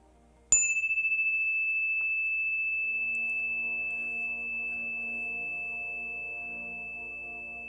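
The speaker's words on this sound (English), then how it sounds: "As the sound of the bell drifts in to the universe" A single meditation bell is struck once, a bright clear ding that rings on and decays slowly over several seconds, with soft low tones lingering beneath it in a quiet room.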